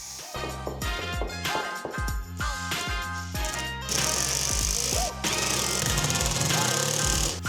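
Power drill boring a hole into a wall during a home office build, heard close and loud as repeated short hammering bursts and then longer sustained grinding runs.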